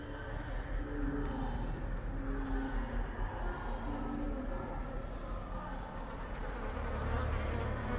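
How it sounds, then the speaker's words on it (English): Mosquitoes buzzing in the video game Darkest Dungeon, a steady, faint insect drone persisting throughout, with a low ambient hum beneath it. "Got those mosquitoes in my headphones."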